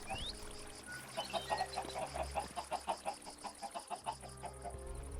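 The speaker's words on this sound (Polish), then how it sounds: "Oczywiście kurczakarka musiała być." Chickens clucking on a chicken farm in the Minecraft video game, a quick series of short repeated clucks and squawks, close and clear over a quiet background.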